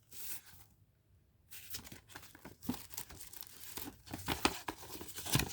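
Paper envelope crinkling and tearing as it is handled while packing a swap, with close, irregular rustles and crackles that quieten briefly then build again toward the end.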